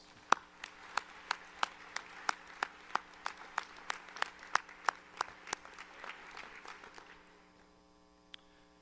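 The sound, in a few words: commencement audience applause for faculty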